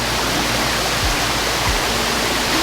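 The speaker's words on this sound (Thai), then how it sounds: "น้ำตกห้วยสวายนะคะ เป็นน้ำตกที่ธรรมชาติมากๆค่ะ" Huai Sawai waterfall in a natural forest setting of Phu Sing district, water rushing over many rocks: a steady, loud, broadband roar continuing without a break.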